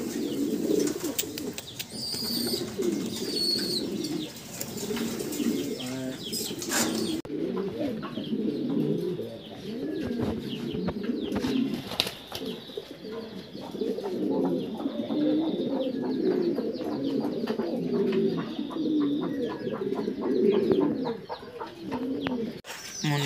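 Fancy pigeons for sale in Bangladesh coo continuously in low, throaty rolling calls, with several birds overlapping nearby, occasional chirps and brief wing flaps.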